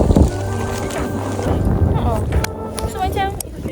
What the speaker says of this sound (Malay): sejuk sangat dan sangat berangin sekarang